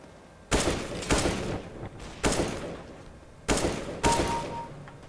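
Gunfire in CS:GO: four loud, sharp bursts of shots at fairly even intervals, each with a brief ringing tail, standing alone against a quiet background.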